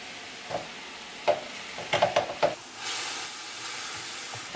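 Ground turkey with the white parts of green onions sizzles in a pan under a steady hiss, broken by several sharp scraping stirs as the meat is broken up.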